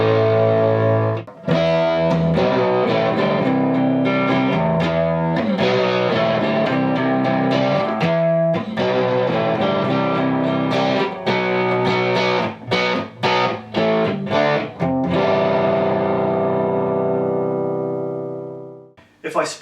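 Electric guitar fitted with high-output Bare Knuckle pickups, played through a Mesa Boogie Rectifier Roadster amp: loud, heavily distorted riffing with chugging palm-muted chords and sharp stops, ringing out and fading at the end.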